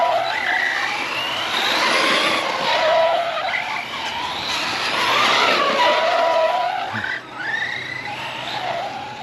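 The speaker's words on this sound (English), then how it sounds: "Tires screeching, even like a real car." An Arrma Mojave 4S RC car screeches its tires at a park, loud repeated rising and falling squeals with whining motor noise close by.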